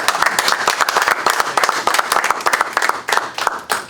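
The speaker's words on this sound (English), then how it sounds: "How about a round of applause for?" A room at an airport commission meeting breaks into close, brisk applause, many hands clapping in a dense, even patter that carries on throughout.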